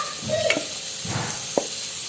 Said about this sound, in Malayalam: ഈ മാരിനേറ്റ് ചെയ്ത് വെച്ചത് നമുക്കൊരു പാനിലോട്ട് മാറ്റാം